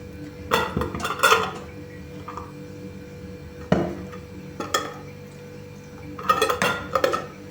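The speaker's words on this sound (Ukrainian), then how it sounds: "Ставлю банки." Glass jars of zucchini clink and knock against a metal pot as they are set down one by one for canning, with irregular taps and a soft background hum.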